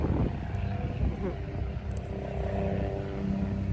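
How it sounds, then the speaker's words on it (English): A steady, rumbling engine drone hangs in the background with a constant low throb, like a helicopter passing overhead. "excuse me, that's a helicopter."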